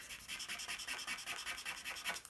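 Posca paint pen nib scratching and rubbing over yellow paint on paper, a steady run of close, soft scraping strokes repeating in quick rhythm with no voices.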